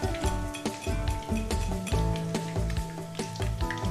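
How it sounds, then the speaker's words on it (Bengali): Chicken pakoras fry in hot oil with a steady sizzle, mixed with clinks of a utensil against the pan and some tonal kitchen noise. "নেক্সট ব্যাচের পকোড়াও আমি একই পদ্ধতিতে ভেজে নিচ্ছি।"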